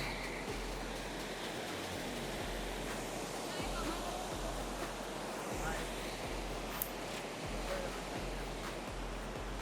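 Water rushing out through small openings in an old stone weir on the Apti River, a steady broad roar with faint background talk and low thumps underneath.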